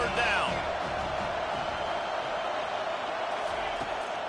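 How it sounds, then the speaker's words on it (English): Football stadium crowd cheering and roaring on a third down, a broad sustained wall of noise at steady loudness, with a faint whistle-like tone near the start. "Decibels rising as the crowd gets behind this defense on 3rd down."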